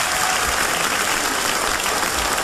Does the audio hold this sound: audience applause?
yes